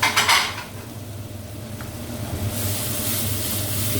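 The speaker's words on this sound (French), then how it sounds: "Faites bien revenir vos échalotes." Shallots sautéing in a pan give a steady, close sizzle, opening with a brief clatter of a utensil and swelling into a brighter, louder hiss toward the end.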